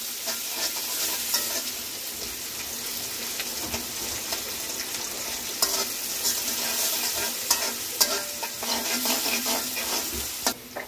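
Onions fry in a pan while being stirred, a bright continuous sizzle close up with intermittent scraping and clinks of the utensil and no voices.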